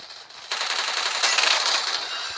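Rapid gunfire in the mobile shooter Free Fire Max, a loud, dense burst of automatic fire that begins abruptly and continues for about two seconds.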